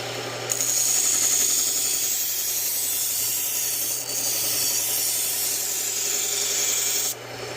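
A Japanese knife edge is sharpened at a 15-degree bevel with an angle guide, giving a steady, loud, hissing grind of steel on stone. It runs continuously with brief breaks around four and seven seconds, with no talking.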